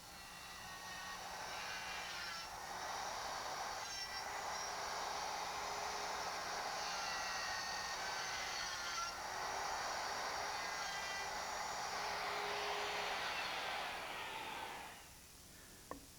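A router fitted with a straight cutting bit with a top ball bearing cuts wooden pins for a wagon, giving a steady high whine with a rushing cutting sound for about fifteen seconds before spinning down, without speech.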